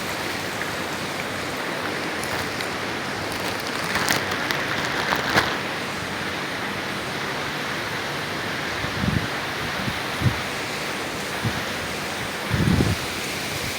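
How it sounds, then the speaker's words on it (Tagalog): Steady rain hisses evenly throughout, with a few brief thumps and rustles close by. "para hindi gaanong malakas ang ulan"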